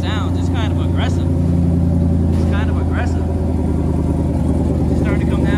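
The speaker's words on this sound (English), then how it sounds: "so here's the exhaust sound" A twin-turbo 5.7 Hemi V8 with dump pipes idles loudly, its steady deep rumbling exhaust drone filling the space close by while someone talks over it.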